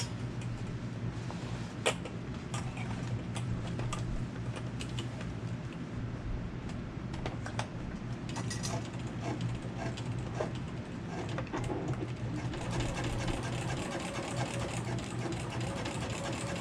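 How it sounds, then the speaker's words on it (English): A sewing machine stitches a handbag liner seam at a half-inch allowance, a soft, steady mechanical whir running throughout, fairly quiet, with faint clicks and handling noises. "we're gonna sew along that edge at 1/2 inch seam allowance"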